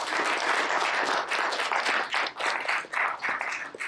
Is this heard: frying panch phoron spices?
no